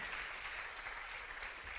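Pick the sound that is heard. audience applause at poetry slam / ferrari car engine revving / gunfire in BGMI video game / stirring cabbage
audience applause at poetry slam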